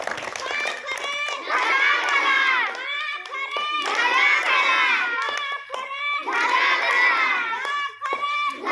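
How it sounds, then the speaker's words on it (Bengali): Children clap loudly during a classroom riddle game, scattered sharp claps mixed with excited shouting and chanting voices that ride on top almost the whole time. "জোরে হাততালি চল"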